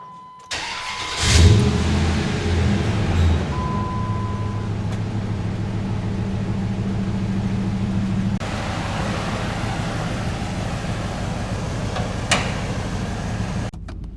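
A 2004 Dodge Ram engine cranks briefly, catches and fires up, then settles into a steady, loud, close idle with a low rumble that runs unbroken to the end, with no talking.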